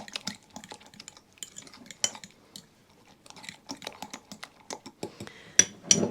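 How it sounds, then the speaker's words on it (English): Homemade tartar sauce ingredients whisked together in a small bowl, producing close, irregular clicks and taps of the whisk against the bowl in quick bursts with short pauses, with no talking. "just give it a whisk round till all of the ingredients are mixed together"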